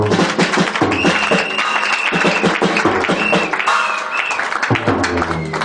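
A church congregation claps loudly and rhythmically, a dense run of close hand claps with voices and musical tones over it.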